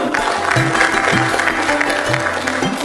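Audience at a literary festival book launch applauding the authors, steady sustained clapping from a room full of people, fairly loud and continuous throughout.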